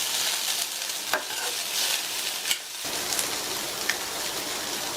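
Green beans poriyal with chopped coriander leaves is stirred in a hot pan, a dense, rain-like sizzle with a few spatula scrapes and knocks.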